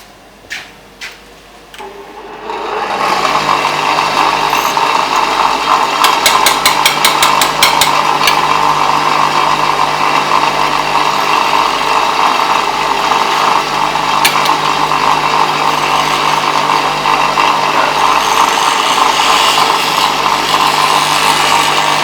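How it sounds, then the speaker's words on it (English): A round plane blade ground on a flat grinding wheel: the wheel spins up after a few soft knocks, then a loud, steady grinding whine carries on without a break. "Now in the case of the round blade, we'll just grind that on a normal flat wheel."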